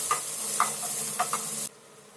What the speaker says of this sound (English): We need to fry them until the color of the onions has been changed